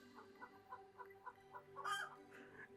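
Pet chicken in a Terraria game clucking in a steady run of short, rhythmic calls, then breaking into a louder, longer squawk near the end, heard alone with no talking.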